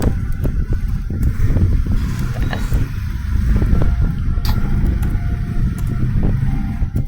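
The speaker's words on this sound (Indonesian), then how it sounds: "Maaf bisa ada suara seperti motor, kereta" Continuous low rumble of passing motorbikes and trains outside, engine drone swelling and fading steadily with no voices.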